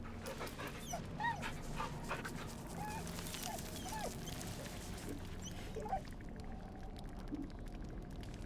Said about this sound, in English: Let's pet the dog